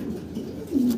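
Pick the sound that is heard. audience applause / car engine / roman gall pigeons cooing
roman gall pigeons cooing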